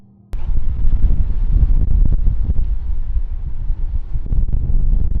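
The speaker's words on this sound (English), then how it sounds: "It's so windy up here, it's crazy." Loud, gusting wind on a mountain top buffets the microphone with a deep, roaring rumble that starts abruptly and keeps up throughout.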